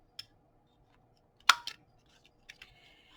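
Scissors snip the corners of small cut paper mats, a few quiet, sharp isolated clicks close by in near silence.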